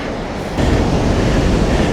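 Sea waves surging and crashing against coastal rocks on an ocean trail, a broad continuous roar of surf that swells louder about halfway through, with no talking.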